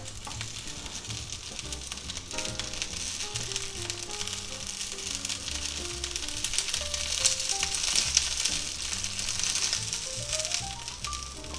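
Thick boneless pork chops sizzle steadily in oil in a cast iron skillet, a continuous bright hiss that swells slightly midway, heard under background music with no talking.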